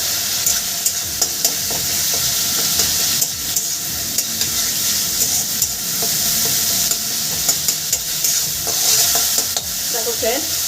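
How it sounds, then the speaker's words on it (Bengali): Spice paste for katla fish curry fries and is stirred vigorously, a loud continuous sizzle punctuated by quick, regular spatula scrapes and taps on the pan. "মশলাটা প্রায় আমার কষানো হয়ে এসেছে একটু আমি কষিয়ে নেব"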